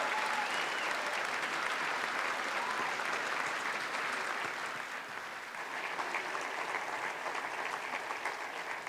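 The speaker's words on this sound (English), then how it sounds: "Let's give them all a round of applause" At the BAFTA Scotland Awards ceremony, a large audience gives a loud, continuous round of applause that stays full and even, dipping only slightly midway before swelling again.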